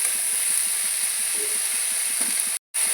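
Spinach cooking in a pan as it is stirred, giving a steady, even hiss of steam with soft, regular scraping strokes underneath, a brief cut to silence near the end.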